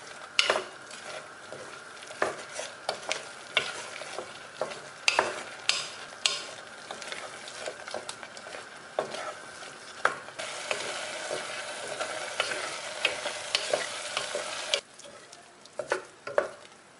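Ginger garlic paste, green chillies and onion sautéing in a pan with steady sizzling and repeated scraping stirs, close and moderately loud, no talking.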